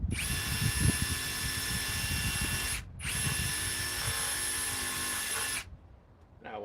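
A Metabo power drill at high speed drives 5-inch number 5 grip fasteners, giving two long, loud, close whining runs split by a brief pause before the motor cuts off.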